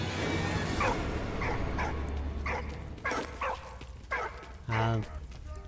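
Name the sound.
dog barking in video game Valiant Hearts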